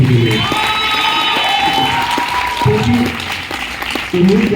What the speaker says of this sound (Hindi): एक बार उनके लिए भी जबरदस्त ताली